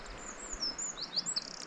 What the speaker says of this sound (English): I love to hear the little birds tweeting away.